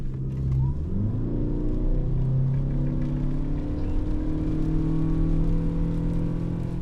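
A 2023 Toyota Venza hybrid accelerating hard on a wet road in the rain, a steady engine drone and rising electric whine that climb in pitch as the car gathers speed, heard from inside the cabin.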